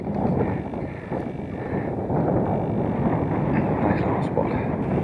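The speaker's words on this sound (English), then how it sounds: "A bit breezy." Steady breezy wind buffets the microphone outdoors on a camping walk in Galloway, a continuous loud low rush with no pauses.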